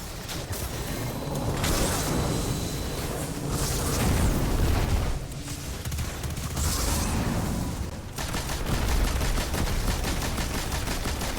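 Sustained rapid machine gun fire in the Destiny raid, loud and dense, with bursts and booming impacts rolling continuously throughout.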